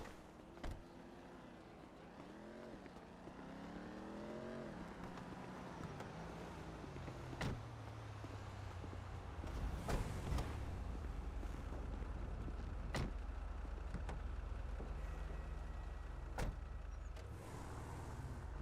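A truck in GTA 5 rumbles along with a low, steady engine drone, rising and falling through gear changes, with scattered clicks and thumps over a few seconds of driving.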